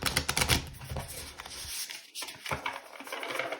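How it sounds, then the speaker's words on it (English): A tarot card deck being shuffled by hand, a quick riffling flutter of cards close up, pausing briefly and then resuming. "let me shuffle one last time"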